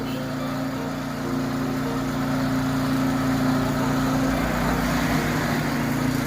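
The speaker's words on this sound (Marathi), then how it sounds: "यो मशीन यो रस काढते" A motorized sugarcane juice extractor runs with a steady, droning engine hum and a persistent low tonal whine, close and continuous with no pauses.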